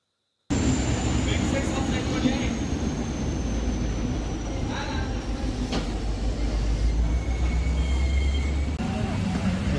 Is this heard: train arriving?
yes